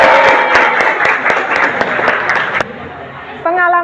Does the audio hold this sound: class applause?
yes